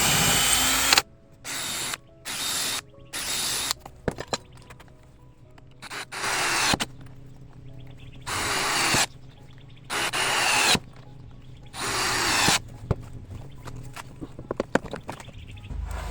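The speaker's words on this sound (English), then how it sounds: "I'm going to drill pilot holes this time" Short bursts of a power drill boring pilot holes into scrap lumber, several separate runs with brief pauses between them, close and loud, no talking.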